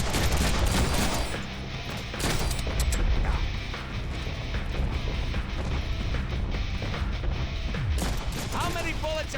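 Video game gunfire in a Wolverine-themed action game, dense rapid shots and impacts rolling on continuously at high volume over a busy mix of game sounds.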